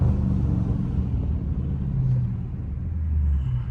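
A Dodge Scat Pack rolls through a city neighbourhood, its engine a steady low rumble heard from inside the car, continuous and moderately loud without distinct revs or talk.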